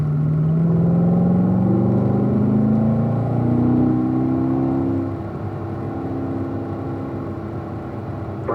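Corvette engine on a road-racing track, a strong rising drone under load that drops and settles as the driver brakes, then holds a steadier tone under light throttle, heard from inside the car.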